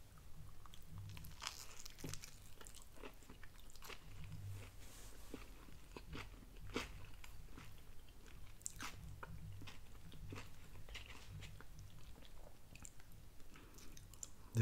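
Close, steady chewing and crunchy bites into a Moe's Homewrecker burrito, with repeated moist mastication and sharp crunches throughout and no talking.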